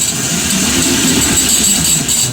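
An electric moped driven by an alternator motor runs steadily at about half throttle, giving a continuous loud whine and hum with no pauses and no voices.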